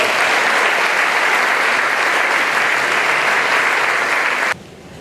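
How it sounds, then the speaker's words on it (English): Audience applause at a mayoral debate, a loud, sustained wall of clapping from a large crowd that runs evenly and then cuts off abruptly near the end. "Ladies and gentlemen, you may applaud for the first pass of the day"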